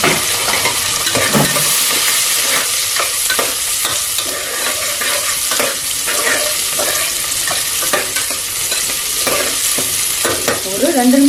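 Small onions frying in oil with a spoon stirring through them: loud, steady sizzling with scraping and clinks against the pan, close up and without talk.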